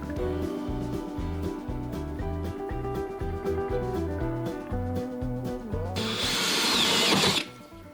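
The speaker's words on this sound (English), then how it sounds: "now it's just about applying some pressure" A power drill boring a hole whines steadily at length, then surges into a harsher, louder grinding burst before cutting off abruptly.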